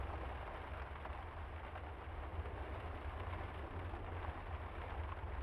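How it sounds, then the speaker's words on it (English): Steady rain pours down during a storm in the video game The Lion's Song, a dense, continuous hiss with a heavy low rumble underneath, even and unbroken throughout. "It has started to rain. How long will this storm continue?"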